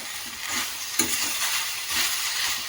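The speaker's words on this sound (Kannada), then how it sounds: "ನಿಂಬೆ ರಸವನ್ನು ಹಾಕಿಬಿಟ್ಟು ಫ್ರೈ ಮಾಡ್ತಾ ಇದ್ದೀನಿ" Okra frying in a pan with a spoonful of lemon juice, a soft continuous sizzle with gentle stirring strokes and a small clink near the start.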